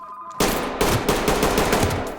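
Gunfire in the tactical shooter Ready or Not: a sudden loud burst begins after a near-silent moment and is followed by rapid, repeated close-range shots, forming a sustained volley with no voices.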